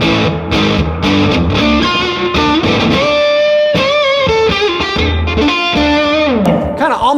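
A Gibson Kirk Douglas Signature SG electric guitar on the bridge pickup with the tone rolled down plays a riff with a thick, dark, near-fuzz distorted tone, sustained notes and bends, loud and close with no talking.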